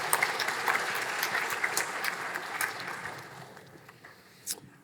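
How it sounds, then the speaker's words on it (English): Graduation ceremony audience clapping steadily, loud at first and gradually thinning and fading toward the end with a few scattered claps. "A round of applause for the optician graduates of April"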